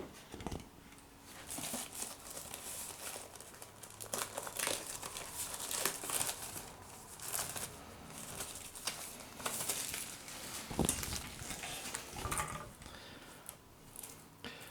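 Plastic covering on a D-Link DWR-921 4G router crinkles and rustles during unboxing, close and uneven with bursts of crumpling and a few sharper crackles, no speech.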